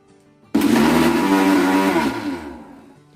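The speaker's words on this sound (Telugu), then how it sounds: "పాలు పోసుకొని మళ్ళీ ఒకసారి మిక్సీ పట్టుకుందాం" A mixer grinder blending almonds with milk starts abruptly with a loud, steady whirring roar close up, holds for about two seconds, then winds down and fades as the motor slows.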